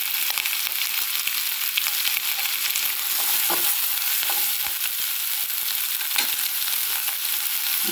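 Vegetables and onion being stir-fried in a pan for cauliflower fried rice: a steady, close sizzle with scattered stirring scrapes and clatters running throughout, no voices.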